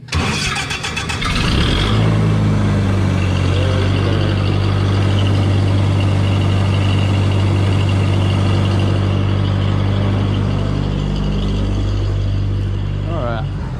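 An old engine-driven welder cranks over briefly, then catches and runs with a loud, steady, low mechanical drone that holds for several seconds, close and continuous.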